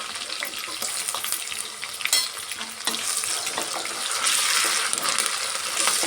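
Curry leaves and ginger-garlic paste sizzle and crackle in hot oil for a wedding-style dum vangi bath, a steady close hiss broken by a few stirring clicks and scrapes, with no voices.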